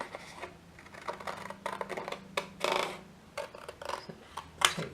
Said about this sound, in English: I've got scissors.